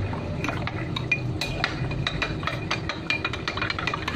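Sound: stirring cornstarch mixture in a glass

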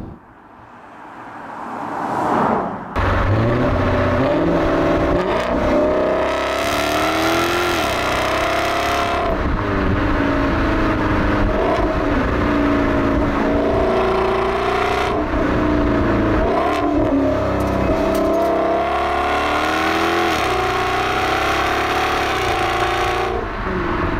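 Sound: Jaguar XKR-S engine revving with center silencer removed

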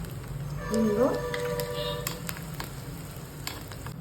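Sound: tadka of dry red chillies sizzling in hot oil

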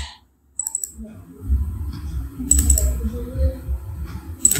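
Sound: computer mouse clicking

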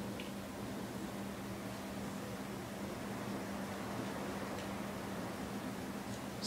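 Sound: dishwasher running in background

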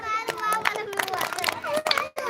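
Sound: children clapping

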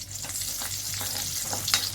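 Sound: garlic frying in oil

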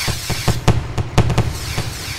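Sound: fireworks exploding in a video game

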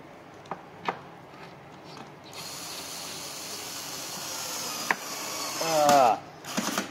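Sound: electric screwdriver driving the last screw

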